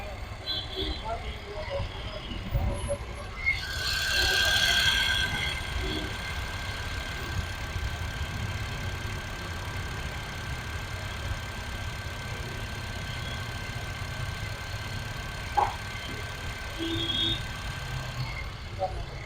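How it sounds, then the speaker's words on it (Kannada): A Honda Brio S petrol car with 52,000 km runs at a steady, smooth idle, a low continuous hum heard up close under someone talking, with a brief hiss rising midway. "ಇಂಜಿನ್ ನೋಡ್ತಾ ಇದ್ದೀರಾ, ಕೇಳ್ತಾ ಇದ್ದೀರಾ ಸೌಂಡು, ತುಂಬ ಸ್ಮೂತಾಗಿ ಇದೆ"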